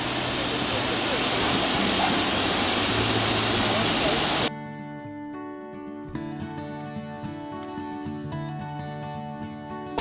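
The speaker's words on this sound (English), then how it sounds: "We are in Bonanza Falls in the Upper Peninsula of Michigan." Bonanza Falls, a waterfall in Michigan's Upper Peninsula, roars as a loud, dense, steady rush of falling water for about four and a half seconds, then gives way abruptly to music.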